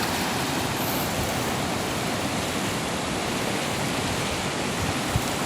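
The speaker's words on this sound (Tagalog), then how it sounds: "Tapos sa lakas ng tubig, may naanod po na kalabaw." Strong floodwater after heavy rain rushes past in a dense, steady roar, loud and close, with no pauses or voices over it.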